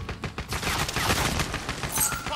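Rapid automatic gunfire in Call of Duty Modern Warfare, a loud close stream of sharp repeated shots with a few heavier cracks, continuous for the whole span.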